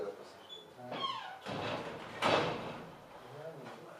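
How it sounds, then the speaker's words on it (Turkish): A door is pulled shut inside a classroom. There is a scraping slide and then a firm knock as it closes, and a voice talks quietly around it. "Şu kapıyı kapatalım."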